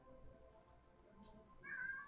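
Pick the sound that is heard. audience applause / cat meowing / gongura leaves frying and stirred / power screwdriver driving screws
cat meowing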